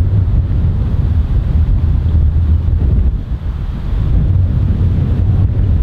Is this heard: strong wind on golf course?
yes